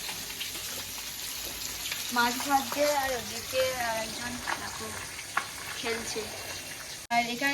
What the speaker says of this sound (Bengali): একটুখানি ডিম ভেজে দিচ্ছে একদম নুন দিয়ে